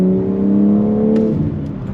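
A 2022 BMW M4 Competition engine drops through a downshift under braking, a loud steady tonal drone that falls in pitch, then blips briefly as the gear changes, close and alone without talk.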